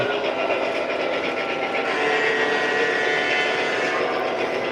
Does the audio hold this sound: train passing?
yes